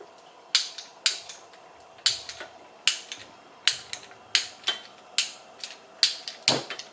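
A gas stove igniter clicks about a dozen times in an even, steady rhythm, each tick sharp and close, with no one talking.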